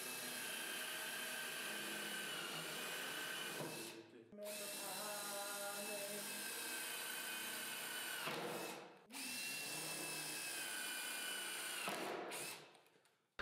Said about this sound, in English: I drill a few pilot holes and I bias them toward this line, as well as angle the drill a few degrees.